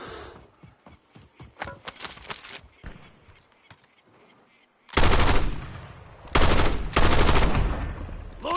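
Bursts of automatic gunfire in Call of Duty Warzone on the Verdansk map: scattered shots and clatter at first, then loud sustained volleys from about five seconds in, broken by brief gaps.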